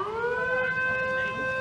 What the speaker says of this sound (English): Giving it all of the sirens.